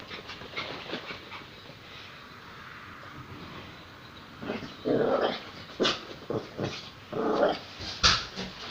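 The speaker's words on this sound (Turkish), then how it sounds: "Kaşınıyor, kuruluyor. Kurulanıyor köpek." A dog shakes its wet coat in a few rapid bursts of flapping, rattling noise, close by, with some panting and shuffling between shakes.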